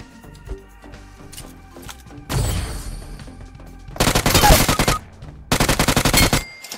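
A life-draining weapon fires in a video game: rhythmic clicking and ticking, then a short noisy burst, followed by two loud sustained bursts of rapid-fire shots separated by a brief pause.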